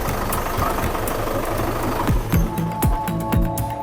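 A Soils tractor's diesel engine idles nearby with a steady rumbling knock, and a few rhythmic thuds and clanks appear toward the end.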